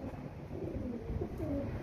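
Pigeons, including a white one, coo softly nearby in a low murmuring burble over a dull steady background, faint and continuous with no talk.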